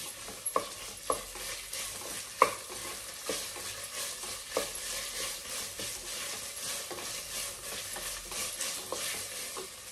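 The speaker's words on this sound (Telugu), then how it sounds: "ఇది కూడా చక్కగా పచ్చివాసన పోయిన వరకు ఫ్రై చేసేయాలి." Ginger-garlic paste, about two spoons, fries in a pan for a coconut-milk variety rice, giving a soft, steady sizzle with repeated clicks and scrapes of a spoon stirring throughout.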